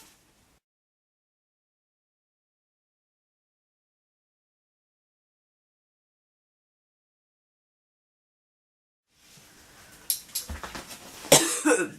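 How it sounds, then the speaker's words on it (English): After a long silence, a burst of harsh coughing comes in near the end, several rough hacks in a row, loud and close. "I still have a cough."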